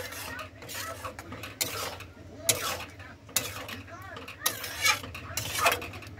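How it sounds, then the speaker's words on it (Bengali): Spoon clinking and scraping in a pan as tadka masala and kasuri methi are stirred into a tadka, in irregular bursts of metallic clatter with a low room hum beneath. "এরপর আমি দেব তরকা মশলা, কসুরি মেথি, দুটো দিয়ে একটু ভালোভাবে মিশিয়ে নেব"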